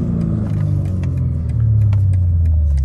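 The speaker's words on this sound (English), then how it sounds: "Let me press this exhaust button." A BMW G80 M3 engine with its exhaust button pressed rumbles loudly at idle, the low exhaust drone deepening and swelling slightly partway through, with no talk.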